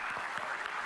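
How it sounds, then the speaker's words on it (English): A room full of people at a game industry gathering claps in a brief, dense burst of applause. "I wanted to ask everyone here to give yourselves a round of applause."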